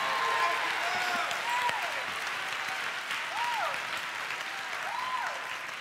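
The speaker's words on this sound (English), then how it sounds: "Give the Lord a hand clap of praise for them." A church congregation gives a hand clap of praise during a service, producing a sustained, even roar of applause throughout. Scattered voices rise over it, likely calls or shouts from the crowd.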